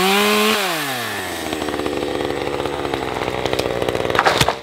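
A chainsaw revs up loudly nearby, then settles into a steady buzzing snarl as it chews through brush on a homestead, with a brief rattling crackle near the end.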